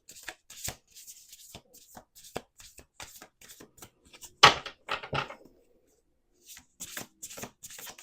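Repeated crisp riffling bursts of a deck of oracle cards being shuffled, close up, with short pauses between shuffles and occasional soft speech.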